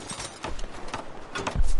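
Horse hooves clip-clop in the World War II shooter game Hell Let Loose, a quick run of rhythmic hoof beats that grows louder and heavier at the very end of the short clip.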